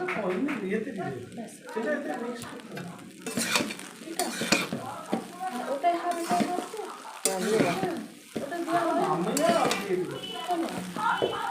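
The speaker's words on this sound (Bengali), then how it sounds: "এবার দিয়ে দিব বিনস ভাজা, মটরশুঁটি ভাজা, গাজর ভাজা দিয়ে ভালো করে নেড়ে ফ্রাইড রাইসটাকে ভেজে নেব।" Fried rice with beans, peas and carrots is stirred in a hot pan, sizzling and scraping with clanks of a spatula, while a person talks over it throughout.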